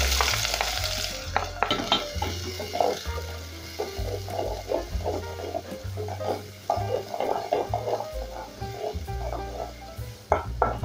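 Onions frying in hot cooking oil in a sufuria, crackling and sizzling loudly up close, with frequent stirring and clinks of a utensil against the pot and no talking.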